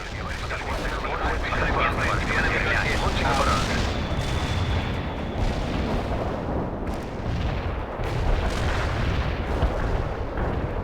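Continuous artillery fire and explosions in the World in Conflict video game, loud and dense booms rolling through the whole stretch with battle noise and faint voices mixed in.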